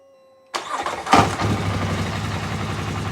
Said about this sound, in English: we'll go ahead and fire it up